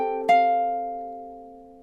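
A single soft ukulele chord from a lullaby is plucked once and left to ring and fade slowly, close and quiet with nothing else heard.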